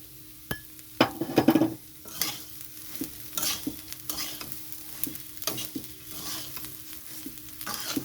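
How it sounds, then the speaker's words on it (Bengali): A spoon scrapes and taps repeatedly against a pan as rice for sweet pulao is stirred with cashews, raisins and sugar, with a soft sizzle underneath and a brief clinking burst early on. "বারবার এরকমভাবে নাড়তে হবে তা না হলে পুড়ে যাবে"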